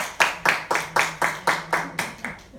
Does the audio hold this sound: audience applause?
yes